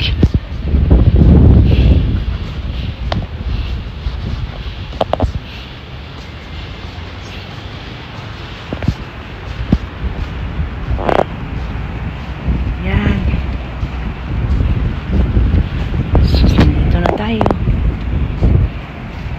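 Strong gusty wind buffets the microphone in heavy rumbling waves at a high-rise swimming pool in Bintulu, Sarawak, with people talking intermittently over the blustery noise.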